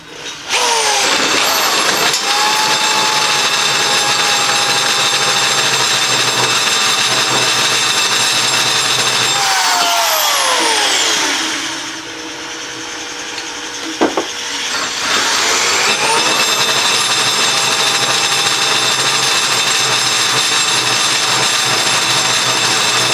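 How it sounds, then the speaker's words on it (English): A tube notcher and bender cuts into a metal hydraulic cylinder with cutting fluid, giving a loud, steady, close motor whine that winds down partway through and then spins back up to full speed. "We're going to notch and bend the hydraulic cylinder that could power the machine that bends them."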